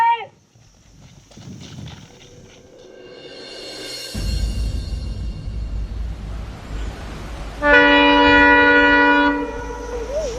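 A train runs along a railway track, its rumble building from faint to loud, then a long sustained horn blast sounds close by before fading.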